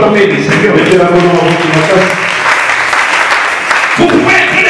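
A church congregation applauding during a sermon at a Kinshasa church, dense sustained clapping from a crowd mixed with voices and tonal sound, loud and continuous throughout.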